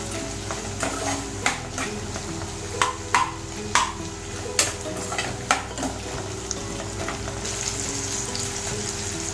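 Green chili and ginger sauté in a pan under a steady sizzle, punctuated by a series of sharp spatula scrapes and taps against the metal at an uneven, unhurried pace.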